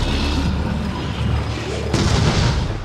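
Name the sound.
explosion in video game Resident Evil 7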